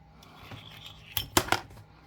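Cutting out the inside of an Alaska state quarter coin ring produces three quick, sharp metallic snips close up, bunched together after a short quiet stretch of faint handling.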